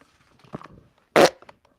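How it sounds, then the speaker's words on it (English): A loud, short fart bursts out after some faint rustling and small noises, close to the mic. "that's an egg fart"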